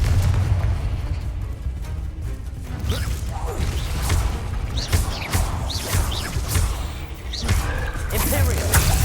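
The Confringo explosive spell goes off in the Hogwarts Legacy video game, with repeated booming blasts, creaks and pops layered over a dense, loud rumbling combat soundscape and voices.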